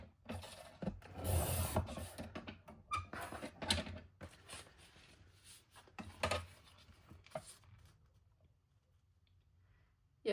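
A paper trimmer cuts a strip of paper for a craft mini album, heard as close, quiet scraping and rubbing bursts with small clicks that fade into near silence toward the end.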